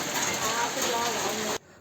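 Light hail pelting a tin shed roof during heavy rain, a dense rattling patter that is loud and continuous, then cuts off abruptly just before the end.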